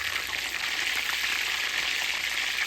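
Thin chicken cutlets fry in hot oil in a pan, giving a steady, dense, close sizzle that hisses evenly and without pause throughout.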